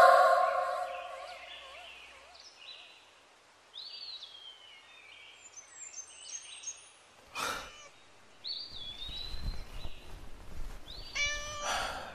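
Young female cat meowing in a Chinese romance film: several short, high, rising meows spread across about twelve seconds. A brief thump and some low rustling come near the middle, and there is no talking.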